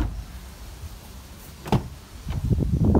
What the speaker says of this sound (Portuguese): Porta-copos normal de todas as SW4 desse ano. Vamos fechar aqui.